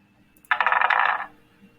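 Dice rolled for a board game, a single short rattling clatter lasting under a second, close and clear against a quiet background.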